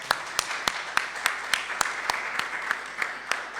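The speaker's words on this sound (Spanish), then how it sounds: "Le damos un fuerte aplauso." An audience at a book presentation during a fair applauds with steady, continuous clapping that stays moderately loud throughout, with one sharp, evenly spaced clap standing out in a regular beat over the wash of hands.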